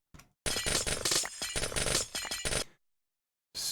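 Glass blocks shatter in the Minecraft modpack Project Ozone 3 on a space station: a dense, loud run of breaking and clinking glass lasting about two seconds, after a brief crack and before one more burst at the end.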